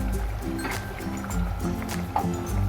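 Fish curry broth with snakehead fish and ridge gourd bubbles in a pan at a steady boil, a close, continuous gurgling and popping of liquid, with faint voice in the background.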